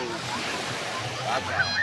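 Steady surf washes in a soft continuous roar, with faint wind and distant voices mixed into the background.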